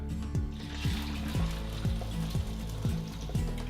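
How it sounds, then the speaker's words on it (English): Two eggs frying separately in a pan, giving a steady close sizzle with repeated scraping strokes about every half second as they are moved around. "I'm just gonna fry that separate"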